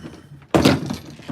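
An Alexa smart speaker knocked off and landing with a single sharp thunk, loud and close, briefly clattering before settling against quiet room noise.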